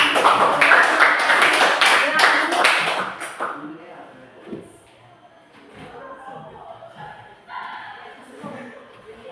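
A group claps energetically for a few seconds, then the applause fades into quiet room murmur and shuffling.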